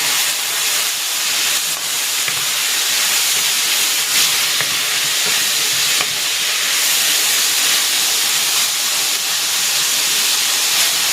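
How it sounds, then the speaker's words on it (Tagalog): Shredded chicken sautés in a hot pan for bihon guisado, a constant loud steamy hiss and sizzle running unbroken, with faint stirring ticks beneath. "Igigisa ko na dito yung hinimay kong chicken."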